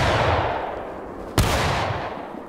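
A single sharp musket volley fired by a company in the War of Rights video game, one loud crack landing midway through a steady rumbling backdrop of wind and distant ambience.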